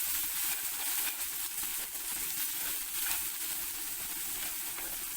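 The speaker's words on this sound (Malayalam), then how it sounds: "ചുവന്നുള്ളി കൂടി ചേർത്തിട്ട് ഉള്ളി ഒന്ന് മൂപ്പിച്ചെടുക്കണം." Red shallots fry in oil for a raw papaya mezhukkupuratty, a steady, even hiss of sizzling at moderate distance, continuous throughout with no voices.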